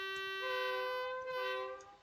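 A Class 31 diesel locomotive horn in Train Simulator sounds one sustained, fairly quiet two-tone blast of about two seconds, with a short dip in the middle before it fades.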